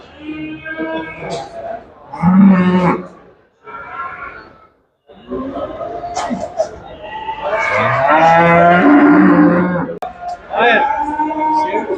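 A cow with her calf moos repeatedly at a livestock market, several loud, drawn-out lowing calls close by, mixed with people talking in Turkish around the pens.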